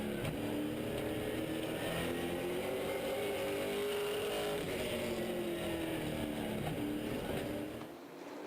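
A race car at speed around an oval racetrack, its engine a loud sustained roar with slowly shifting pitch, fading slightly at the end, no voices.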